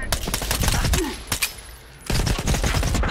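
Gunfire in STALKER 2, loud rapid automatic bursts close by, broken by a brief lull before the shooting resumes, with no talk.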